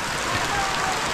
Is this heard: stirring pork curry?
no